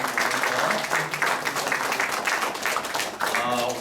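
Church congregation applause during an evening of praise and testimony at a Korean church, with steady, fairly close clapping that swells and eases in waves alongside faint voices.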